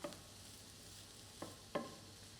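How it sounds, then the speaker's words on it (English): Bolognese vegetables sizzle softly in a hot pan under a steady frying hiss, broken by a couple of sharp scraping knocks from a spoon stirring. The sound is close and quiet, with no talk. "I'm going to be stirring that for a bit."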